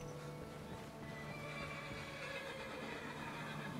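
In the video game Skyrim, a horse whinnies faintly over a steady background hum, with soft hoof clopping mixed in.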